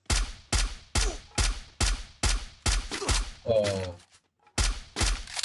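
Single-shot gunfire in a battle royale video game: a rapid, even string of loud, sharp shots, then a brief burst of other game noise, a short pause, and more shots, with a quick voiced exclamation.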